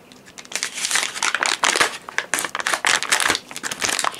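A plastic bag holding a Polish MP5 gas mask is torn open by hand, giving loud, close crinkling and ripping bursts in irregular pulls over about four seconds.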